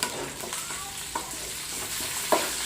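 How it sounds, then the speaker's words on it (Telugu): Tomatoes frying in a pan for a spicy tomato curry, a steady sizzle broken by several sharp scraping clicks of stirring close by, with no talk. "టమాటాలు వేసేస్తున్నా"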